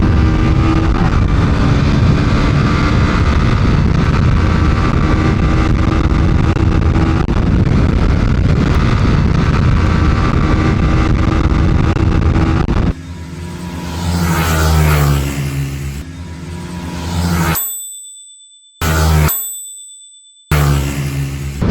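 A Yamaha Sniper 155 and a Honda Winner X 150 motorcycle ride on factory stock settings, with a loud, steady engine drone for about thirteen seconds before the sound cuts to a few short, choppy segments broken by silence.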